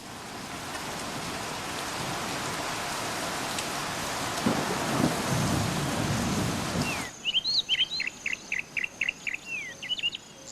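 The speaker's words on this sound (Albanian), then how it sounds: "Vetëm kur shiu i vërtet fillon, Encozi ikën në strehën e tunelit." Heavy rain pours steadily for about seven seconds, with a low rumble that fits distant thunder. The rain then cuts off abruptly, giving way to quiet, rhythmic chirping calls.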